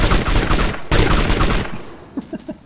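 Rapid automatic gunfire rattles loudly in a Sea of Thieves-style shooter, two dense bursts followed by a few spaced single shots trailing off.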